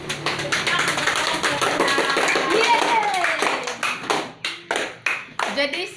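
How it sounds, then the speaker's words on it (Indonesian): Students clapping together in a classroom, a full burst of applause that breaks into a few separate rhythmic claps toward the end, with voices mixed in. "Kasih tepuk."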